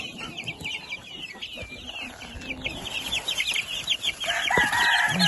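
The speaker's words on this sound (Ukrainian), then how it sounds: "Це півник." Chickens cluck and chatter nearby in a busy farmyard din, and a rooster's call rises near the end.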